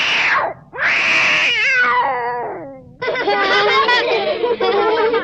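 A kitten meows loudly and close by, with several long, drawn-out, wavering cries. The second cry runs straight on from the first, and a brief pause comes before a final stretch of meowing.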